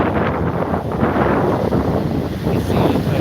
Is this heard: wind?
yes